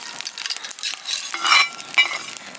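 Fenugreek seeds roasting in a hot pan for mango-style chilli pickle, heard as a close, dry rustling scrape of stirring with light crackling and sizzle, uneven and brief, with no voices.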